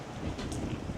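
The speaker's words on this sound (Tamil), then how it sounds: "நேற்றை விட இன்னும் கொஞ்சம் காற்று கொஞ்சம் அதிகமாக இருக்குது கடலில்" Strong wind at sea blows across a fishing boat out after tuna, making a steady, loud buffeting roar against the microphone with a low rumble of water beneath.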